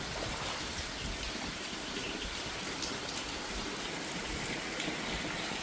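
Heavy monsoon rain pours into a village courtyard where water is pooling, a dense, steady hiss of drops hitting surfaces with no talking.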